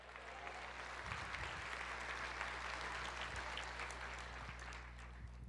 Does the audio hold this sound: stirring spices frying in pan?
no